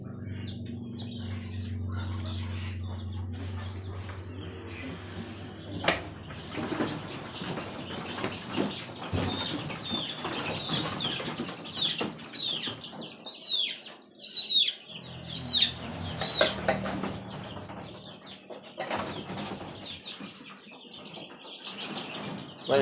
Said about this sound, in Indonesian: Ayam kampung.